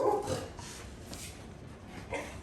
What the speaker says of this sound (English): your dog is barking at me